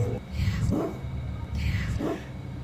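Dogs barking in a played video: two loud bark bursts about a second apart, mixed with voices and a low background rumble.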